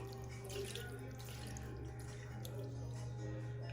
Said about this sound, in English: And then I'm going to rinse out the jar